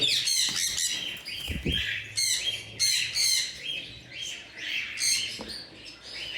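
A pair of sun conures calling with repeated loud, harsh shrieks and squawks, close by and overlapping in irregular bursts, with a few soft knocks underneath.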